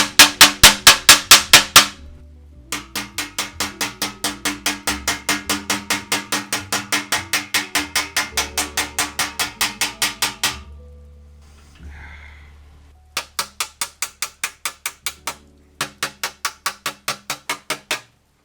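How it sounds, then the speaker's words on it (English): Sharp dents are hammered out of a baritone horn, a quick metallic tapping in long steady runs with pauses, loud and close, without talk. "There's a lot of hammering involved with this one to hammer out some of these sharp"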